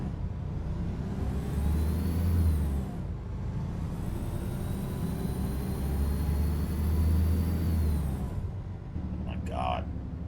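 An International LT truck in American Truck Simulator pulls away, its engine droning and rising through gears with two swells of low rumble and a short air hiss near the end, under someone talking.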